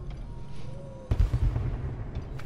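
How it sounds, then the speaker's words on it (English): Fireworks burst in the stealth game Dishonored, a sharp crack followed by several rumbling booms and crackles over a low steady ambient bed, moderately loud and brief. "Oh, fireworks."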